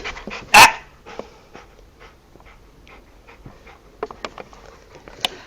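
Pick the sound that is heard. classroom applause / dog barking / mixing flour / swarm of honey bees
dog barking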